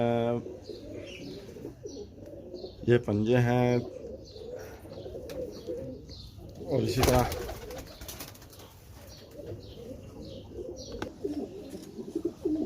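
Low cooing of a Rampuri pigeon and a few soft chirps sound close by while someone talks over them.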